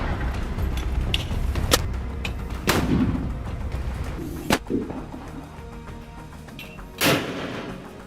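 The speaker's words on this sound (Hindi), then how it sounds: "हरियाली के बीच से एकाएक कई रॉकेट दनादन आसमान की तरफ फायर हो रहे हैं।" Several rockets launched from among greenery into the sky, with sharp, separate whooshing blasts ringing out at intervals over a steady low rumble of background noise.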